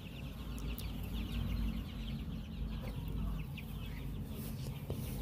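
Kaveri chickens at a poultry farm shed cluck and chatter continuously, many birds at once, with occasional sharper calls over a low, steady background of shed noise; fairly faint overall and no talking.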